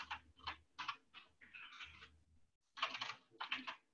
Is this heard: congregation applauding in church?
no